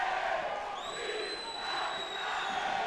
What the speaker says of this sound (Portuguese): E a torcida gritando o nome do Inafitali, de arrepiar.